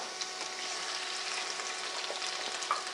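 Quinoa stirred in a pan over medium heat gives a steady, close frying hiss with faint scraping strokes throughout, and no talking.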